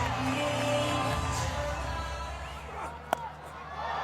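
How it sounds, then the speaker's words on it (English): A cricket stadium crowd at Rawalpindi roars and cheers for a boundary during a Pakistan versus Zimbabwe match, a broad sustained wash of noise under a commentator's voice, with a sharp crack near the end. "The crowd erupts as Babar collects his first boundary"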